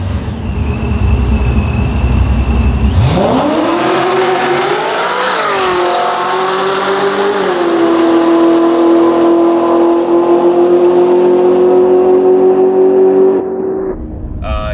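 A supercharged Camaro with a stock LT4, an F1A94 blower and a TH400 transmission launches down a drag strip, its engine roaring loud and close, climbing through the revs and holding a sustained, rising scream before cutting off.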